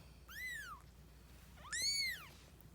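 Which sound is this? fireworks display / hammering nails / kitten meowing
kitten meowing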